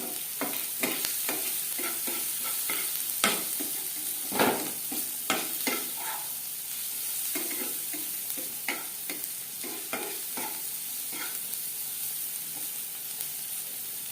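Chopped onions fry with ground turmeric in a pan for a homemade dal, giving a steady sizzle for about fourteen seconds with sharp, irregular clicks and scrapes from stirring. No talking is heard.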